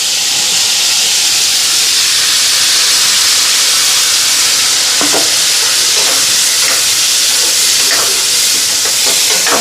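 Spice paste (masala) hits a hot pan and sizzles loudly, a dense continuous frying hiss close up, with occasional light stirring scrapes cutting through the steady roar.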